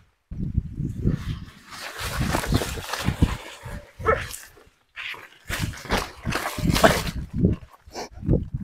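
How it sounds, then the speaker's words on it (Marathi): Dogs in a farm field bark and bay in repeated close, loud bursts that overlap and run almost continuously, with a short lull partway through. "कुत्रे आहेत तिथं."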